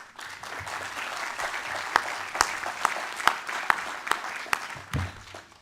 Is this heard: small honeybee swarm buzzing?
no